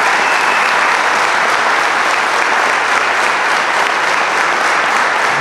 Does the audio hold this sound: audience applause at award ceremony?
yes